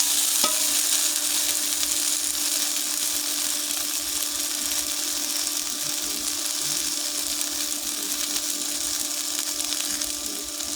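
Hilsa fish curry with potato and green banana is stirred in a pan, giving a continuous moderate frying sizzle with occasional faint scrapes and no talking.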